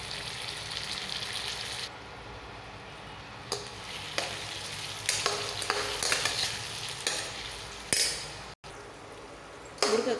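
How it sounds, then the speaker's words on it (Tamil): Drumstick pieces and brinjal are stir-fried in a pan with a continuous sizzle, broken by repeated sharp scrapes and clanks of a spatula against the metal pan. "முருங்கைக்காய் சேர்த்து லேசாக வதங்கினதும்"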